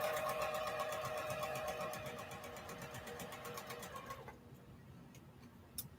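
A sewing machine stitches a quilt block, its rapid, even needle ticking over a soft motor whine. It runs for about four seconds, then stops, leaving a quiet room.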